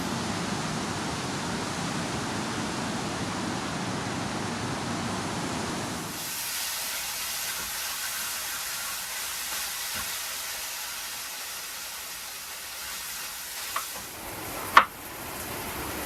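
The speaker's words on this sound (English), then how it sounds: "Oh, it's windy now." A wind storm blows outside a British narrowboat: a steady broad rushing roar that thins to a lighter hiss partway through, with a couple of sharp knocks near the end.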